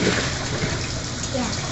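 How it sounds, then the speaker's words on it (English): Tap water runs in a steady, close splashing stream during hand washing, continuous for the whole moment, with faint voices in the background. "Okay, can you shut the water off?"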